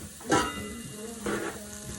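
Onion, garlic and bell pepper frying in a pot as chilli is made, a soft sizzle under two brief scraping stirs.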